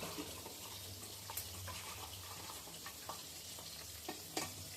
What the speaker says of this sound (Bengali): মাছ ভাজা হোক